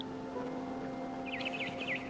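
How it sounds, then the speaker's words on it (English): A barn swallow chirps outside a window in the video game What Remains of Edith Finch, giving a few faint, quick rising-and-falling tweets over a steady low background hum. "Then I heard chirping outside my window."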